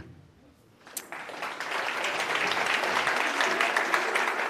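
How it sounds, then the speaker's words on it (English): An audience at a business conference breaks into a sustained round of applause, starting abruptly after a quiet moment and swelling into dense, loud clapping that holds steady to the end. "I should hope that round of applause is for yourselves"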